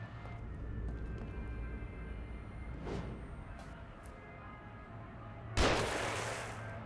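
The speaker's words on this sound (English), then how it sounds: "Who's shooting at me?" Gunfire in the horror video game The Evil Within: a few sharp shots ring out over a steady low rumble, followed by a loud, broad blast near the end.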